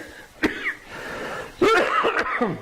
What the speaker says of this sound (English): there goes our cough and our cold and everything